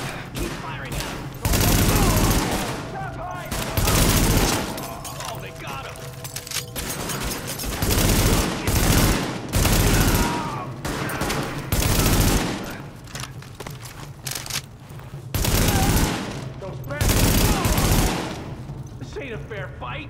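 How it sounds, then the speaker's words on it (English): Shootout gunfire in Tom Clancy's The Division on Xbox, repeated loud bursts of automatic and rapid weapon fire in clusters with short gaps, close and intense, mixed with voices shouting over the fighting. "Keep firing at them."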